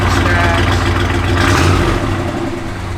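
A 1979 Dodge Adventurer 150 Lil Red Express truck engine revs loudly and steadily through its exhaust stacks, a deep rumbling roar with throaty exhaust that swells and eases slightly over a few seconds.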